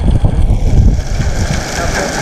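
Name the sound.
strong wind while riding a bicycle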